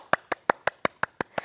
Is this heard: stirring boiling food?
no